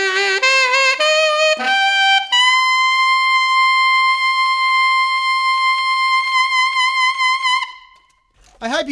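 Saxophone sounds a run of short notes, then climbs to a long, pure, sustained altissimo D held for several seconds with slight wavering, loud and close; it fades out and a voice begins speaking at the end.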